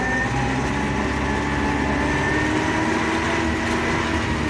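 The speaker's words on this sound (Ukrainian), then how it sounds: "Ось така робота трактора всередині в кабіні" Continuous tractor engine drone under load heard from inside the enclosed cab, a steady low rumble with a faint whining tone, unchanging and loud.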